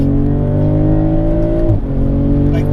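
A turbocharged BMW Z4 on a racing lap drones loud and close, its engine tone climbing steadily, then dipping briefly at a gear change before pulling again.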